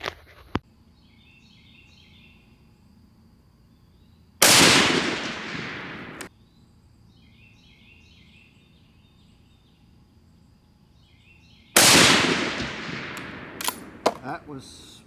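A Remington SPS rifle fires two loud, sharp shots at a 200-yard target, each with a decaying crack, several seconds apart against a quiet outdoor background.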